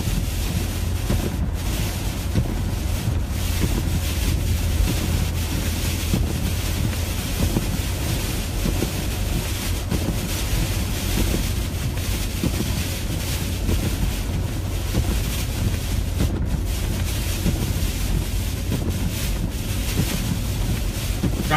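Steady, loud broadband road rumble and wind roar from a car travelling at about 30 mph on a sleet-covered Route 24 overpass near Brockton, continuous throughout with no talk.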